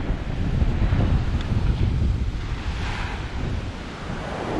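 Ocean surf rolls in at Condado Beach in Puerto Rico as a steady, loud wash, with heavy wind rumble on the microphone throughout and no voices.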